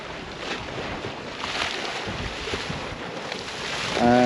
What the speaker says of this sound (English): this is the water that's splashing over the side.